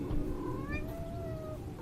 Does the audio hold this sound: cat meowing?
yes